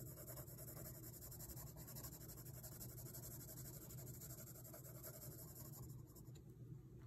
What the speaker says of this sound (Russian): Карандашик скользит легко по бумаге.